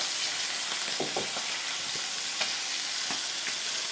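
Veal sizzles in a frying pan, a steady bright hiss of browning meat with a few soft scraping and stirring knocks, close and moderately quiet.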